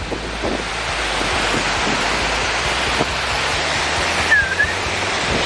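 A forest waterfall roars in a dense, continuous wash of sound, loud and close, with a brief thin whistle-like tone rising near the end.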